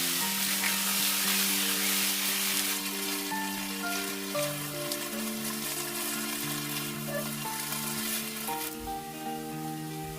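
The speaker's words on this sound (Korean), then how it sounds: "물러붙지 않게 계속 뒤적여주세요." Julienned potato and onion stir-fried in a pan with a steady, close sizzle and frying crackle throughout, while music plays over it and no one speaks.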